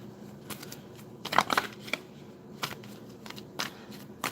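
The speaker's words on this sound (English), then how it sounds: "Let me just finish shuffling and we will get to these messages." Quiet, irregular riffling and soft card snaps of tarot cards being shuffled, with a few sharper flicks scattered through; no talking.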